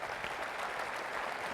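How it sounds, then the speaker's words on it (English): Brief burst of applause from the audience at a community and technical college system conference, even clapping heard at a moderate distance. "Give you a big round of applause."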